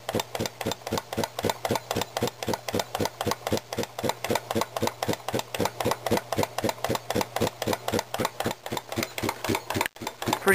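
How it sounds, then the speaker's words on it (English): An antique Brunner air compressor built around 1900 in Utica, New York, with an oiled cylinder and crankshaft, runs steadily nearby, a fast even rhythmic chuffing and knocking over a low hum that holds throughout. "And that is the Brunner compressor made in Utica, New York."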